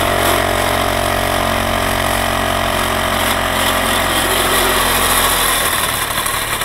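A Krot motor cultivator engine runs loud and close with a steady buzzing drone, holding high revs before the pitch drops near the end.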